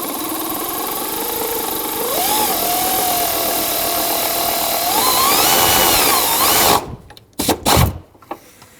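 A power tool whirs steadily for several seconds, rising in pitch as it drives a bolt into the fan shroud of a 2008-2010 Ford F-250 6.4L diesel, then stops, followed by a few sharp clanks.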